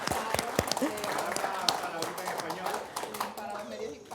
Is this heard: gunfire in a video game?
no